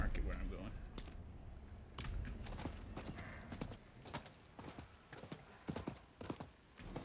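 Rapid, uneven clip-clop of horse hooves running in the video game Diablo 4, steady at first and then breaking into scattered hoofbeats.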